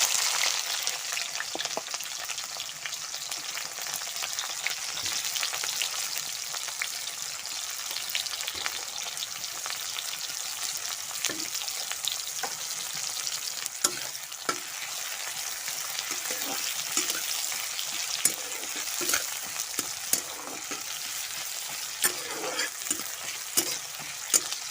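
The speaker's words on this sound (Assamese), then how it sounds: "পিঁয়াজটো ভালদৰে ভাজি লওঁ।" Onions fry in hot oil for a chicken curry, giving a steady close sizzle with scattered clicks and scrapes of stirring throughout, no voices.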